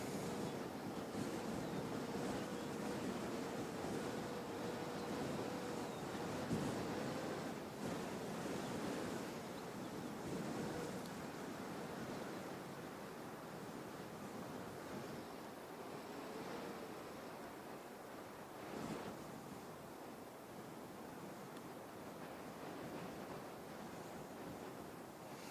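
Gusty wind at Christchurch Airport roars as a broad, steady rush, swelling and easing in gusts with occasional buffeting on the microphone, with no voices.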